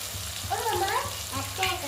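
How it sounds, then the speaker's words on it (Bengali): Fish frying in a pan with tomato, chilli powder and turmeric, a soft crackling sizzle heard close up, quiet and brief, with a faint voice-like murmur in the background. "দেখো ফ্রাই করছি"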